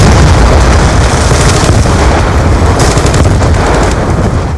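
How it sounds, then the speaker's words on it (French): An RPG rocket launcher firing in a video game, a dense, loud, continuous blast of booming explosive noise filling the whole stretch with no letup, no voices. "RPG, donc vous tirez du RPG là."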